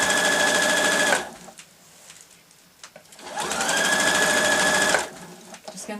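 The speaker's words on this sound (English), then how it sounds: "I'll sew across the bottom of the bag, so again line up those 2 seams so they're even" Sewing machine stitching across the bottom of a fabric bag padded with wadding: two steady, fast whirring runs of about one and four seconds, close and loud, separated by a quiet pause with faint handling sounds.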